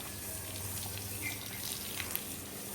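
Water runs steadily from a hose while a horse is washed on a farm, a soft continuous rushing spray with faint splashes, heard alone without talk.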